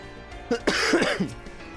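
A person still recovering from illness lets out one close, short cough with a throaty clearing, a brief burst of a couple of rough pulses against a quiet room.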